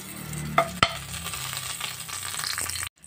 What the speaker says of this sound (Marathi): नेक्स्ट आमकां घालपाक जाय जिरें. ते बरें अशें तडपाक दिवपाक जाय.